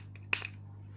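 A single quick spritz of water from a spray bottle onto tissue paper, a short sharp hiss over a low steady hum, with a faint click just before it.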